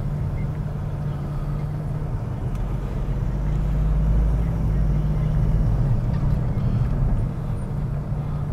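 Toyota Corolla automatic being driven on the road, a steady low engine and road rumble from inside the cabin, continuous and moderately loud, with a voice talking over it.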